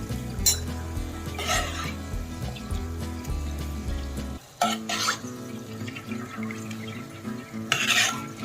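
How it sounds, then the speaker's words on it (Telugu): Grated fresh coconut fried and stirred in a pan for jaggery coconut sweets, with steady scraping and stirring strokes, soft sizzling, and clinks of a spoon against the pan, all close and with no talk. "ఇలా ఈ కలర్ వచ్చేదాకా వేయించుకోవాలి."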